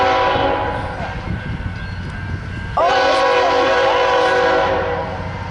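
A Norfolk Southern NS 253 freight train passes on the second track, a loud, continuous rumble of rolling cars with a horn sounding partway through, close to the listener.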